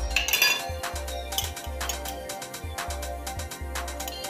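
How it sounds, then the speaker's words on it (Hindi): Spoon stirring pickle spice masala with boiled mustard oil in a metal bowl, a busy run of clinks and scrapes over a low, pulsing background hum, close and fairly loud. "अब इस मसाले को हम मिलाएंगे और इसमें हम थोड़ा तेल डाल देंगे"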